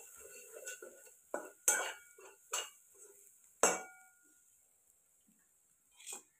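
Gram flour being stirred into a spice tempering for drumstick curry in a pan on a wood-fired stove: a spoon clinks and scrapes against metal in scattered close knocks, with quiet gaps between.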